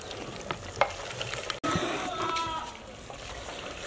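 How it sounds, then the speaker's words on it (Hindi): Whole green chilies frying with mutton in a pot for mutton kali mirch shorba, giving a soft continuous sizzle with stirring scrapes and a brief break midway. "8-10 हरी मिर्चें साबित मैंने इस मौके पे शामिल कर दी हैं। इन्हें 2-3 मिनट में भून लूँगा"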